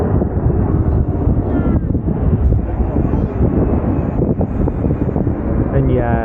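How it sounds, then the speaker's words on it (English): A Dassault Falcon 2000 LX jet at Manchester Airport gives a sustained broadband roar heard from the runway area, mixed with gusty wind buffeting the microphone. "which is a Falcon 2000 LX by Dassault"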